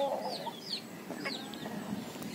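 Japanese Shamo aseel rooster named Rambo giving soft clucks outdoors, a few brief calls over steady low background noise, with other fowl faintly around.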